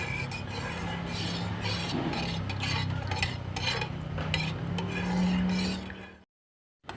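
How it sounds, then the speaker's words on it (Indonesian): A pot of coconut milk with salt and pandan leaves simmers while a spoon stirs and scrapes against the pan, a steady bubbling hiss with clinks of metal, ending abruptly. "ini santannya sudah mendidih"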